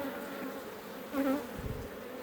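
Honey bees buzz around an opened hive during a late-season inspection before winter, a dense agitated drone close by that swells briefly as one flies past.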